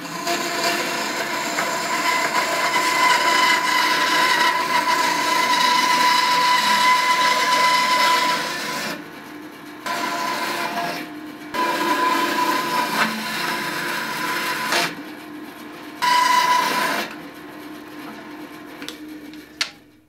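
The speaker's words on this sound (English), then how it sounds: "My first step will be rough cutting it using my bandsaw." A bandsaw rough cuts a piece of burl wood with a loud, continuous grinding whine, then the cut breaks into shorter bursts with brief drops and pauses as the blade works through and finishes.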